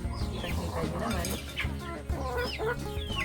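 Chickens cluck in short, rising calls while pecking at ripe Jamaican cherries (aratilis) fallen from the tree, a close, busy flock sound over a low steady background.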